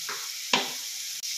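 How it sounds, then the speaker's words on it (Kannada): Sliced carrots hit a hot pan of veg fried rice and are stirred, a soft hiss jumping into a short, sharp sizzle burst that then settles, close and brief, with no talk. "ಇವಾಗ ಸ್ಲೈಸಾಗಿ ಕಟ್ ಮಾಡ್ಕೊಂಡಿರೋ ಕ್ಯಾರೆಟ್ನು ಕೂಡ ಸೇರಿಸ್ಕೊತಾ ಇದ್ದೀನಿ"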